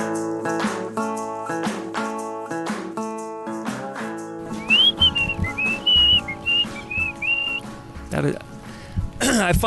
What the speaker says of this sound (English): Sometimes I can whistle, other times I can't whistle very well at all.